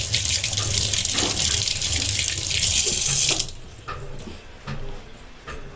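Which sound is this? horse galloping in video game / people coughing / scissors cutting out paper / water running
water running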